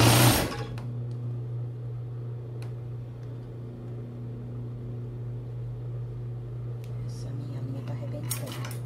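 A sewing machine stitches a padded bra cup with a steady, continuous motor hum and needle rhythm close by, running throughout after a brief louder start, with faint whispery voices in the background.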